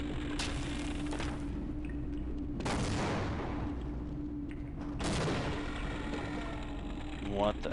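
Grenade explosions in the video game Half-Life, three loud broadband blasts about two and a half seconds apart, each trailing off over a steady low game drone with constant background noise.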